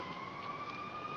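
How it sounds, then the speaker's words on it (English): Police sirens wail faintly in the distance, a single steady tone holding briefly and alone with no voices. "Those are the sirens I was telling you about."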